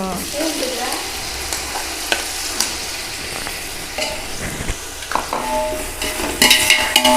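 Mint and curry leaves fry and sizzle in a pan for mutton biryani and curry, with a steady hiss under repeated stirring scrapes and light clinks of a spoon against the metal, close and fairly loud.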